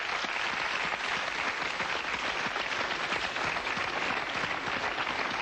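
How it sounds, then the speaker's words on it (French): Audience at a hypnosis show applauds a volunteer after she comes out of trance, sustained crowd clapping heard steadily throughout, fairly dense and even, with no voices on top. "Je crois qu'on peut l'applaudir quand même"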